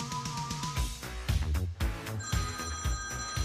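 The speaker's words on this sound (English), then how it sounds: "is that your phone?" A telephone rings with a rapid repeating electronic bell trill, loud and close, pulsing steadily for several seconds with no talking over it.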